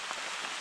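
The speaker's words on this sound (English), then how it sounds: "As you can probably hear, the rain got just a little bit heavier" Heavy rain falls steadily through a Swedish forest, a dense, even hiss of drops pattering on leaves and ground, with no voices.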